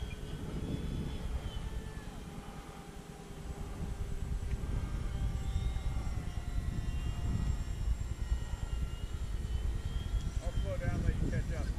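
FMS F4U Corsair RC model airplane in flight chasing an E-flite P-47, a steady whining motor drone with shifting pitch as it passes, heard over outdoor breeze while a person talks.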